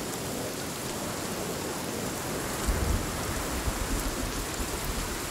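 Steady heavy rain hisses throughout a thunderstorm in the survival game Sons Of The Forest, with a low rumble of thunder swelling midway and lingering.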